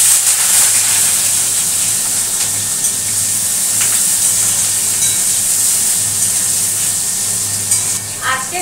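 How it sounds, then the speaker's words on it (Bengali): Eggplant frying in a generous amount of oil in a pan for a fenugreek-greens dish, giving a steady close sizzle and hiss throughout with a few faint clinks. "মেথি শাকের বেগুনটা আগে ভেজে নিই।"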